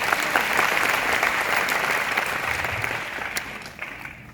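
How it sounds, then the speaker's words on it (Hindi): Audience at a DXN network-marketing meeting applauding, a loud, steady round of many hands clapping that gradually tapers to a few scattered claps. "कैसा ताली होना चाहिए।"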